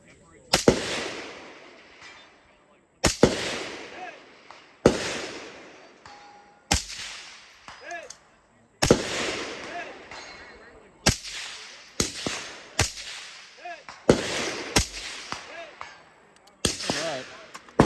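Mk12 rifle fired at a DMR shooting match: about a dozen sharp, loud gunshots at irregular intervals, some in quick pairs, each followed by a short ringing echo over a quiet outdoor background.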